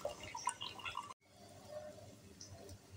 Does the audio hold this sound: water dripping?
yes